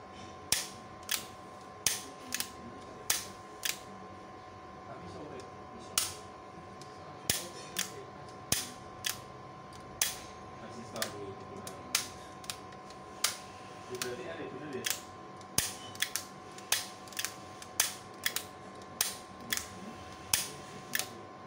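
A 20A automatic transfer switch relay switching between two power sources makes sharp, loud mechanical clacks, some single and some in quick pairs, spread irregularly over a steady electrical hum while a person talks in between.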